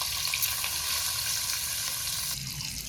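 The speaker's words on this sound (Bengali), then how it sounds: "গরম তেলে মাছের পিস দিলাম" Pieces of fish sizzle and crackle in hot oil in a wok, a steady dense frying hiss filling the whole stretch, close and even, with no voices.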